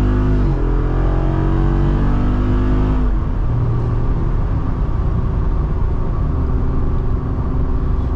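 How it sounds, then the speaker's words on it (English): A Jeep Wrangler Rubicon 392 V8 pulls hard, its engine note climbing in pitch, then a gear change from second to third about three seconds in drops the revs into a deep, loud rumble that continues accelerating. "as you guys heard, it still kind of had a bit of lag in between the second and third shift"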